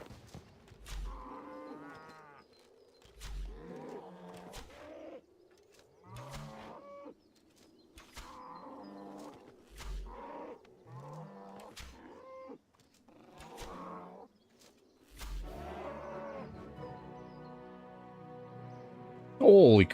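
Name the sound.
super cow mooing in the video game RuneScape 3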